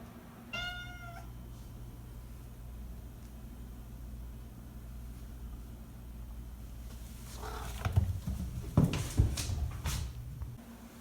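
A cat meows once near the start beside a cat condo, followed by a long quiet stretch and then close rustling, bumping and scratching sounds near the end.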